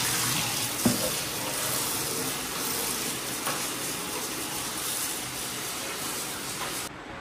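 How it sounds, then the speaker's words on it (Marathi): Tap water runs steadily over taro leaves being rinsed in a sink, a continuous close rush of water with a brief splash early on, no talking. "2 पाण्याने स्वच्छ धुवून टाकायचे।"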